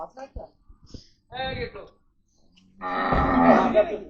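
Cattle being unloaded from a vehicle, with a loud, drawn-out moo near the end after some brief calls and voices earlier.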